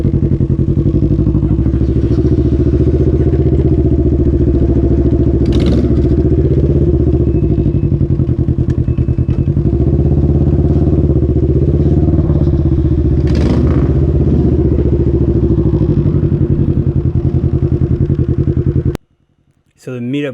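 A Can-Am Ryker three-wheeled motorcycle idles and runs nearby with a holed exhaust, giving a loud, raspy, pulsing engine note that holds steady for most of the stretch before cutting off abruptly near the end.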